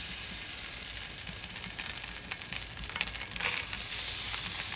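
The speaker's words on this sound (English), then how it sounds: "we're going to put our first couple on there and give them a whirl. The skillet is really hot." Stuffed pork chops sizzle in a very hot skillet over a wood fire, a dense crackling hiss that swells and pops with sharper bursts partway through, close and continuous.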